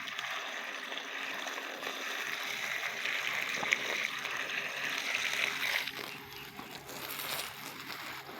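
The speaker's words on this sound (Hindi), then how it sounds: "ऐसे इतना पानी डालना है" Water poured into a cooking pot while making a meat dish, a continuous splashing, gurgling stream at close range that swells and then eases off near the end, with no talk over it.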